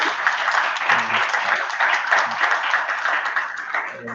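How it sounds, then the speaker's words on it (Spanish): Steady applause from a conference audience, continuous clapping at moderate volume throughout, with a faint voice now and then. "Desde acá les vamos a dar un fuerte aplauso a los tutores."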